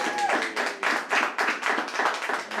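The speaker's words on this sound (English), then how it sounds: "Round of applause for you, please." A small audience claps in a close, uneven rhythm of distinct hand claps in quick bursts, near and moderately loud, during an intimate music session.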